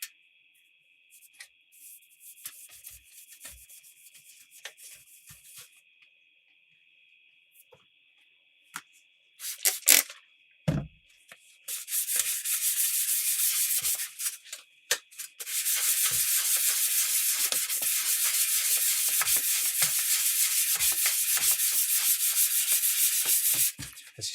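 Fine 2000-grit sandpaper rubbing a surface, at first faint and intermittent under a steady tone, then long loud continuous sanding strokes close by after a few knocks.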